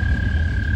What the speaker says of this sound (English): More of those frogs.